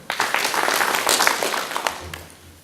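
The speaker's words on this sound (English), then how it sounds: "A clap for him." An audience at a stakeholders forum gives a short burst of clapping for a guest being introduced, moderately loud and fairly close, fading out near the end.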